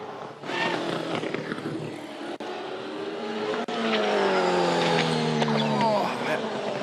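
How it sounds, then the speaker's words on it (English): A Supercars race car roars at high speed at Sandown Raceway as it runs off the road, tires squealing and skidding, the engine note sliding and shifting throughout, loud and continuous. "I've never seen a car go off the road as fast as that at that spot."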